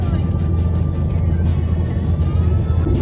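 Dense city street traffic rumbles steadily and fairly close, a continuous low engine drone with cars moving past during a music festival outing, with no clear breaks.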